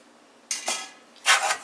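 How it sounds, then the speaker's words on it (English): Metal baking pans set down on a kitchen counter, two or three brief clattering knocks close by, separated by short pauses in a quiet room. "We're going to set our pans aside"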